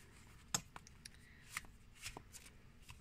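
Tarot cards being shuffled by hand, a few crisp riffling bursts and soft papery flicks close up, quiet and without talk.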